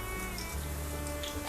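Curry leaves and peanuts frying in hot oil for raw banana podimas, a steady close crackling sizzle with no talk.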